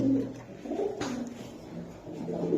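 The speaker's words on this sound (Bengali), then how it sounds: "এই যে দেন কবুতর দেখছেন আপনারা" Pigeons cooing close by in a low, soft, repeated murmur, with a brief rustle partway through and no talk.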